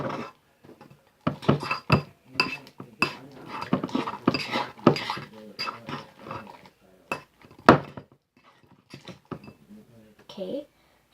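A fork clinks and scrapes against a bowl while butter slime made with Play-Doh is mixed, giving repeated close taps and scrapes under a person talking throughout.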